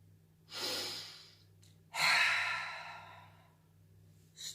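A person taking deep breaths, two long audible airy exhalations close to the microphone with a brief pause between them and no words spoken.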